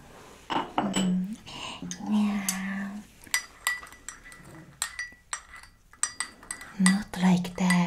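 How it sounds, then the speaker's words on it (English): A spoon clinks and scrapes against a cup while stirring sweetened tea, with repeated sharp metallic chinks in quick irregular bursts, close and fairly loud, and brief soft sounds between them. "Stir it delicately, going back and forward, not with a circular motion."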